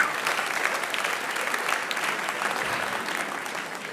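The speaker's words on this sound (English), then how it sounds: "Give them a round of applause." An audience applauds during a fast-calculation demonstration, dense steady clapping from many hands filling the whole stretch at an even level.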